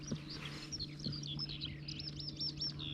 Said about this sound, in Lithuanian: Paukščiukai cip, cip, cip, cip,